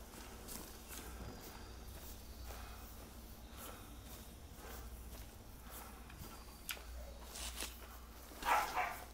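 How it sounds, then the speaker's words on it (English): A young boxer puppy barking indoors in a house, a short cluster of faint, distant yaps near the end over a quiet background of low game ambience. "You can hear the local wildlife in my house as the dog barks."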